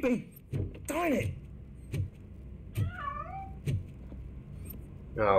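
A cat meows several times in RoboCop: Rogue City, with short rising and falling cries spread across the stretch, some close and some softer, among low game ambience and brief bursts of voice.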